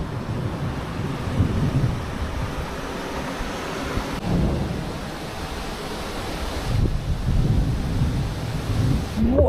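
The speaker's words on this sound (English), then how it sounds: "that was a loud thunder crack" A loud crack of thunder from a thunderstorm, heard from a camper van, rolls into a deep rumble amid wind noise, followed by further low rumbling.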